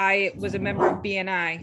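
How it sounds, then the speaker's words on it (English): A pet dog barks and yips in short bursts close to the microphone, overlapping a person talking in an indoor online meeting. "Sorry, that's my dog."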